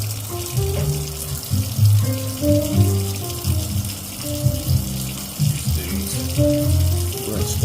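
Tap water runs steadily into a sink while vegetables are rinsed during home preparation of wild hog chile verde, a continuous close splashing flow with some clatter and a faint voice in the background.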